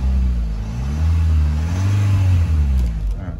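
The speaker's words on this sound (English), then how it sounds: "I might just give the car a bit of a rev." A Kia Carnival's engine is revved while parked, the note climbing and falling through a couple of swells, close and loud with no talking over it.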